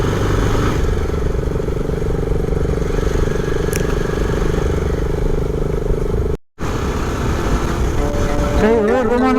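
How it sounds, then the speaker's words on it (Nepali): Three motorbikes ride along a road, a loud continuous engine drone close by that cuts out for a split second before resuming, with a rising whine near the end. "अहिले चाहिँ हामीसँग 3टा बाइक भयो है।"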